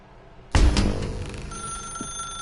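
A telephone in The Stanley Parable video game starts ringing abruptly and loudly after a quiet half second, its bright ring decaying into a sustained tone, with no speech.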